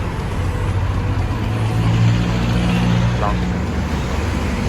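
A Honda CR-V second generation fitted with a push-start remote start kit idles steadily with a low engine hum and rumble, heard continuously and fairly close with no distinct cranking burst.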